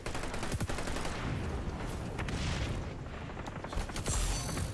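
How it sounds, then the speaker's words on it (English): Gunfire in XDefiant, with rapid submachine-gun bursts and a grenade blast, sounds as a busy run of sharp cracks and dull booms, loud and close throughout. "There we go, a little nade kill."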